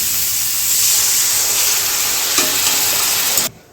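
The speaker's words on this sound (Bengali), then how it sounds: "একটু পরিমাণ মতন জল দেবো, সামান্য পরিমাণ।" Spice paste frying in a pan for a rohu fish and pointed gourd curry hisses in a loud, dense sizzle with a brief flare partway through, then cuts off abruptly near the end.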